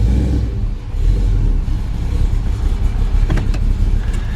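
A deep, steady V8 exhaust rumble from a 1972 Chevrolet Malibu Convertible, loud and close, with a throaty low throb that holds throughout.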